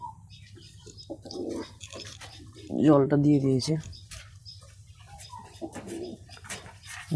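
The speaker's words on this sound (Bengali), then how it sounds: "কবুতরগুলো জল খাওয়া জলটা ঠিক মতো খাইতে আছে দেখেন সবগুলো কবুতর এখানে" A pigeon gives a clear, close cooing call in the middle, among a group of pigeons drinking water; a person talks briefly before and after it.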